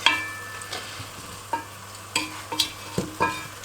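Meat browning in a frying pan that has released water, a soft steady sizzle with several sharp clinks and stirring scrapes spaced through it, close by, no talk.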